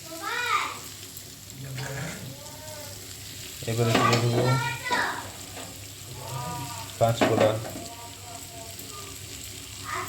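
Ground turmeric, red chilli powder and cumin frying in a pan for a jackfruit-seed bharta, a soft steady sizzle running under a voice talking throughout.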